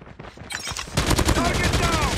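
An automated sentry gun in a multiplayer shooter video game opens fire, a rapid dense burst of gunfire that grows louder and continuous after a brief ramp-up.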